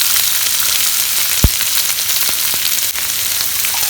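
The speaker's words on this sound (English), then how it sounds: "Now let us add the chopped onions first." Chopped onions fry in a pan after ginger and garlic for Goan chicken masala, giving a loud, steady, close sizzle throughout with a single sharp knock partway through.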